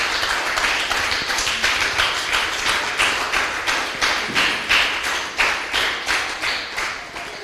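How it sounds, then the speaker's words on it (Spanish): A church congregation claps together in a steady, fast rhythm to applaud the Lord, a dense run of sharp hand claps that keeps going throughout with no talk over it. "Denle un fuerte aplauso al Señor"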